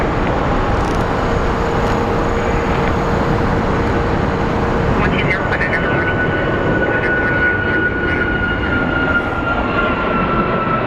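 Steady, loud roar of a CRJ regional jet taxiing at Phoenix Sky Harbor airport, a continuous broadband engine rumble with a faint whine rising over it.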